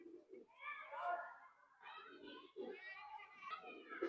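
Pigeons, including closed-tail Andhra Madrasi birds at a pigeon sale, coo in soft, low, repeated phrases, faint and mixed with nearby voices talking.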